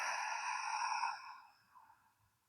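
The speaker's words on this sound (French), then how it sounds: "Profonde inspiration ici par le nez et expire par la bouche." A long, breathy exhale through the mouth during a yoga breathing exercise, close and fairly loud at first, then fading into a softer trailing breath.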